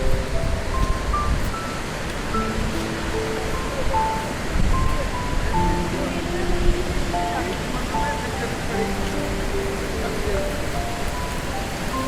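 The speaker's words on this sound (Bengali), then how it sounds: "ঝর্ণা যাচ্ছে, জল যাচ্ছে।" Steady rushing of a waterfall and flowing stream beside a mountain trail toward Sheshnag on the Amarnath Yatra, a broad continuous wash of water noise, with someone talking over it.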